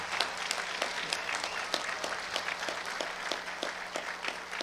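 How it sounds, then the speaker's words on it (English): Moderate, steady clapping from a graduation audience at Gering High School's 2021 ceremony honors summa cum laude graduates, with individual sharp claps standing out from a continuous wash for several seconds. "Let's give them a round of applause."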